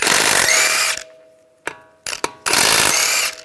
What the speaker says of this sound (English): use a 19mm socket, take the lug nuts off.